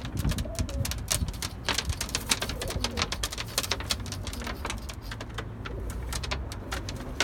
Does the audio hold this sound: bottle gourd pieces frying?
no